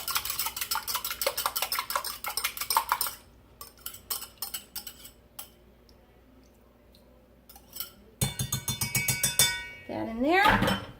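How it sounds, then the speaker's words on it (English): Fresh organic brown large eggs being whisked in a bowl, heard as quick bursts of rhythmic metallic clinks against the bowl that pause midway and then resume, close and fairly loud. "Whisk that up."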